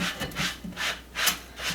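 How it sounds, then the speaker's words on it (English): Scraping baked-on residue off a dry pizza stone, four slow rhythmic back-and-forth rasping strokes, close and fairly quiet with no talk. "I just need to scrape it off"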